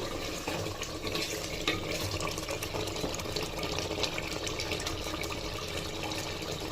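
Water is poured into a cooking pot of partly boiled chicken for a Chettinad chicken biryani, a steady, even splashing stream running continuously at moderate volume.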